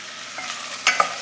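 Onion and tomato frying in oil for a chicken curry, a soft sizzle with a couple of quick stirring scrapes near the end of a very short stretch, no voices.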